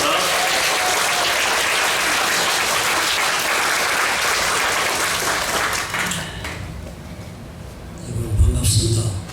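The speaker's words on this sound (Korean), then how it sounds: "큰 환영의 박수로 모시겠습니다" Welcoming applause from a church congregation, a loud, dense wash of clapping for about six seconds that fades out, after which a voice begins speaking.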